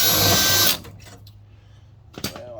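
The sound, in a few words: power drill drilling hole for rivet in exhaust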